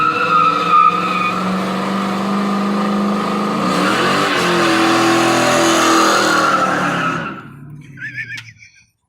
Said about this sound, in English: And I can do a little old burnout like this.